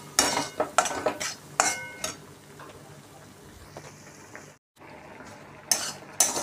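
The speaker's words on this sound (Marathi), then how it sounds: "कढईमध्ये मी तूप गरम करण्यासाठी ठेवलेला आहे, त्याच्यामध्ये हा बारीक रवा आपण घालून घेणार आहे" Fine semolina roasting in hot ghee in a wok, stirred with a metal spoon: bursts of scraping and clinking with a soft sizzle beneath, a quieter stretch, a brief dropout, then more stirring near the end.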